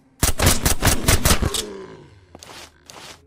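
Rapid automatic gunfire from SurrounDead, a burst of about eight close, loud shots in quick rhythm, then a pause and a couple of further scattered shots.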